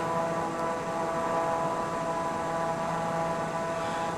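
Steady drone of an aircraft engine during a landing approach in Microsoft Flight Simulator, a continuous even hum with a constant tone and no voices.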